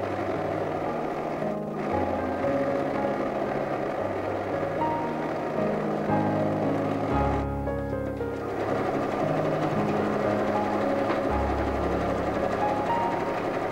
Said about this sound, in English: sew a zigzag stitch on both the ends